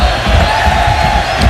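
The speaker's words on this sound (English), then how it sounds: "the crowd is quiet right now compared to they've been here for 5 hours prior to this match" A stadium crowd at the 2009 El Salvador vs USA World Cup qualifying football match gives a steady, dense roar of many voices with faint scattered shouts, continuous and fairly loud.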